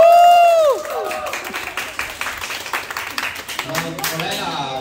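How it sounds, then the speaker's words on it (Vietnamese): An audience at a Women's Day celebration breaks into applause. A round of clapping follows a brief tonal sound at the start, and voices and cheers mix in near the end. "muốn có không khí hân hoan hơn bằng một tràng vỗ tay."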